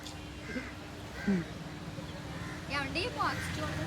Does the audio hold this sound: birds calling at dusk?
yes